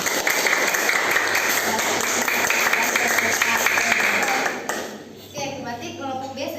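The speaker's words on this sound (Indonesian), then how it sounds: "Tepuk tangan untuk Ungu" Classroom applause for a student group during a gamified lesson, steady crowded clapping from a room of children for several seconds that stops abruptly, followed by a teacher talking.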